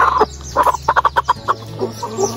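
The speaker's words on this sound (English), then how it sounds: "This is the chicken you gave me." A village chicken in rural Kenya clucks in a quick run of short, close, fairly loud calls, rising into a rhythmic burst of bright clucks before trailing off into softer ones.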